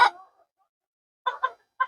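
Fayoumi chickens, a small flock of two hens and a rooster about seven months old, give a sharp call and then three short clucks a moment later, close by and clear with no talk.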